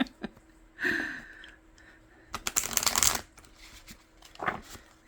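Cards being shuffled and riffled close by in a few rustling bursts, with soft handling noises between them.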